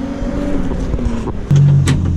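Sports car engine runs nearby, a steady low hum and drone with a deeper tone stepping in halfway through, loud and close without talk.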